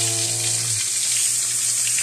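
Tilapia fish frying in oil makes a steady, close crackling sizzle, with a low hum underneath that drops away after the first moment.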